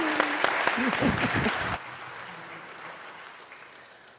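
An audience applauds a panel at a racial healing and justice fund chat, with dense clapping and a voice speaking over it before the sound cuts to a faint room hush.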